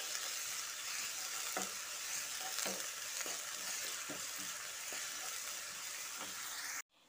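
Finely chopped onions fry in hot oil after whole spices for Lahori chana, giving a steady close sizzle broken by the scrape of a spatula stirring every second or so, then cut off abruptly near the end.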